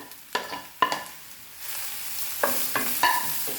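Sliced onions hit hot oil on high flame for an okra dish, with a few sharp utensil knocks against the pan and then a rising, sustained sizzle broken by more stirring clanks.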